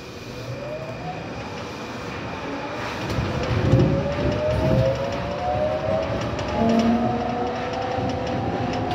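A Kobe New Transit Rokko Liner automated guideway train running on its track toward Sumiyoshi with a steady rolling rumble and rising and falling whine from the motors, heard from inside the car.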